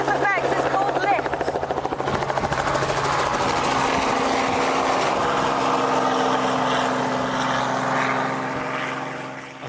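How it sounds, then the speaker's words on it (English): A helicopter roars loudly and close, rotor thumping steadily under a deep engine drone that builds and then begins to fade, with a voice briefly audible early. "And so the helicopter goes up."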